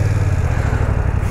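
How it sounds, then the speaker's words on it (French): Close, loud, steady engine note of a BMW F900R motorcycle, a continuous low rumble with fine even pulsing and no talk over it. "Le son du moteur."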